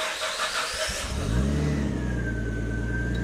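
Nissan Stagea's RB25DET straight-six cranks and catches after a fuel pump rewire, settling into a steady, smooth idle with a faint high whine; loud and close with no talk.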